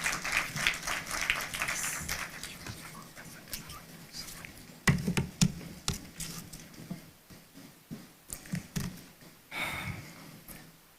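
An audience claps at a formal State of the Judiciary annual report ceremony, producing scattered, light patter-like applause that rises and thins over several seconds at a distance.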